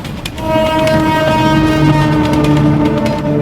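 A train rolls past close beside slum houses built along the railway line, a loud continuous rumble and clatter with a sustained horn tone running through it.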